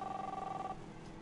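Phone ringing inside the video game The Awesome Adventures of Captain Spirit: a steady electronic trill that runs clearly for under a second and then stops, leaving quiet room tone.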